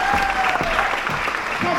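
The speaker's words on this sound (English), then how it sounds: "Big applause" Dense, steady audience applause fills a jazz festival concert in Adelaide, loud and sustained throughout with crowd noise and faint voices mixed in.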